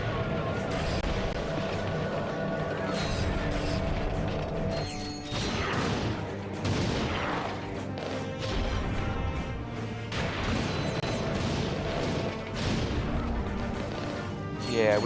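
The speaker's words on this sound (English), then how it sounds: "Let's grab the suck cannon." The Suck Cannon weapon in the Ratchet and Clank video game firing amid dense game action: repeated mechanical whooshing blasts and crashes, loud and busy throughout, with game music and effects layered underneath.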